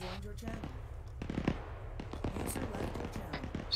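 Video game gunfire crackles in rapid, uneven bursts of sharp pops, fairly faint and distant, mixed with voices talking over it.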